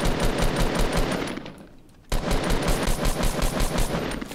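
Rapid automatic gunfire from a Fortnite match, loud and continuous bursts with a brief lull before the firing resumes.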